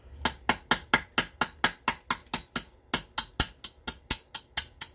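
Flint being knapped to trim a gunflint: a fast, steady series of about twenty sharp, close tapping clicks at an even rhythm, with no talking.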